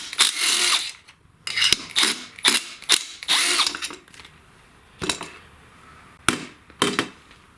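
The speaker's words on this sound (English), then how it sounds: "you'll need a T27 screwdriver or a bit on your impact" An impact driver with a T27 bit hammers at screws on a STIHL chainsaw in several loud, rattling bursts of about a second each, separated by short pauses.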